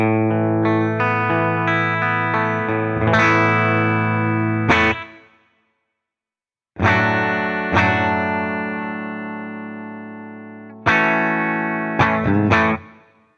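Distorted electric guitar through a Dark Phase 65 amp simulator in THU Overloud plays sustained chords and single notes, each ringing out with a reverb tail, with a silent pause midway.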